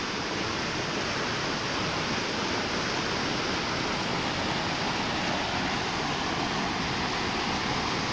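Browns Run Creek in southwest Ohio, swollen by flooding, rushes downstream in a steady, loud, unbroken roar of water with no voices.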